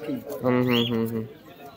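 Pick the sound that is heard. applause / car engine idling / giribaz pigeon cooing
giribaz pigeon cooing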